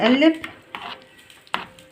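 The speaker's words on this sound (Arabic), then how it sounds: "نقلب كده لغايه لما السكر يدوب معانا" A spoon scrapes and clinks against a pot of milk and sugar for rice pudding in a few sharp taps, after a brief voice at the start.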